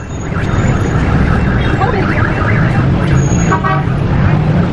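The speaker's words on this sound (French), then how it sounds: "Toujours beaucoup de circulation, hein, comme d'habitude." Heavy street traffic in Ho Chi Minh City rumbles in a dense, continuous wash of engines with scattered horn toots, loud and close throughout.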